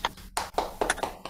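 Children clap their hands together in a clapping game, a quick uneven run of about seven sharp claps close by, with no talk over them.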